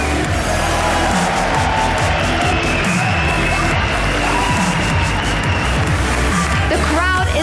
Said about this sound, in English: The crowd is unbelievable here